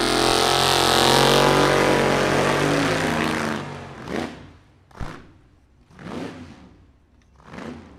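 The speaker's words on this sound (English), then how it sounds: "Great burnout to the left-hand side for John Reidenbach of Kenosha, Wisconsin." A 1962 Chevrolet Corvette drag car does a burnout at a vintage drag race. A loud, steady engine roar with tire screech fills the first few seconds, then cuts away, and an announcer talks over a quieter background.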